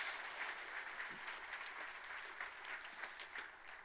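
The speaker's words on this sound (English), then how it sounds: "Let's give James a huge round of applause." Audience applause for a presenter at a live game event, steady and moderately distant clapping from a small crowd that holds evenly throughout without voices.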